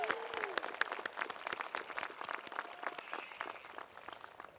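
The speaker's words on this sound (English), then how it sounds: "Let's please give our president another round of applause." Audience applause at a university undergraduate commencement ceremony, a dense sustained patter of many hands clapping throughout, moderately loud in a large venue, with a faint voice briefly at the start.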